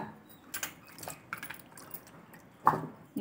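Water splashing and trickling in short bursts, with scattered drips and clinks of wet jackfruit pieces being rinsed, fairly close and quiet.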